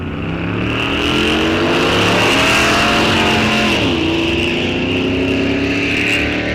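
A 1941 Studebaker drag car at Rock Falls Raceway roars loudly and steadily, its engine note sweeping and dropping partway through as it runs down the strip, with no talk over it.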